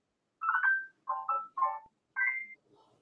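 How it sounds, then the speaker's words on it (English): A mobile phone rings with a short, clear electronic melody of several bright notes, then falls silent in a quiet room. "That was my phone."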